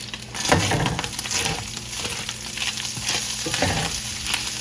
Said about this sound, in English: So when frying the hamburger, we like to get it really dark